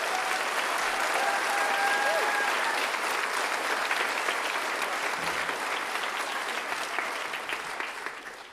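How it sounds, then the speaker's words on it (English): A large audience at a junior high school event claps in sustained, dense applause filling a big room, steady for several seconds before gradually tapering off. "please give them a round of applause."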